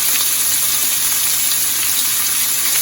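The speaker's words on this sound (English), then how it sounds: "And now I'm putting the sausages in my skillet." Kielbasa sausages sizzle in a hot skillet, a loud, dense, continuous hiss and crackle that holds steady throughout with no talking.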